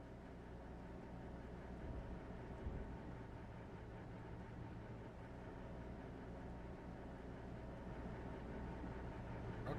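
Tractor engine idling steadily in the Farming Simulator 25 game on the Welker Farms map, a continuous low rumble that holds at an even level throughout with no talk.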